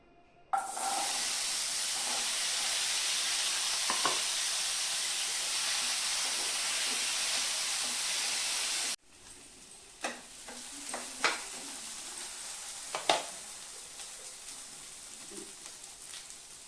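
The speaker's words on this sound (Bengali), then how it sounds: "মাছ ভাজার তেল আছে কড়াইতে, এটাতে আমি ডাঁটা আলুটা দিয়ে দিব" Potatoes and vegetable stems drop into hot oil left from frying katla fish in a wok and burst into a loud, steady sizzle. About halfway through it settles to a softer fry with scattered scraping and clinking from stirring.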